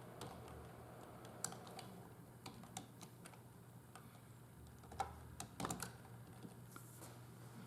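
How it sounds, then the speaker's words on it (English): Quiet keystrokes on a computer keyboard as a short command is typed, an irregular run of soft clicks with a few louder taps near the end, over a low steady room hum. "I'm going to type the familiar command"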